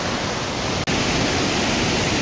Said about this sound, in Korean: 폭포수가 공기 저항에 부딪혀서 하늘로 올라갔다가 다시 내려오는 거죠.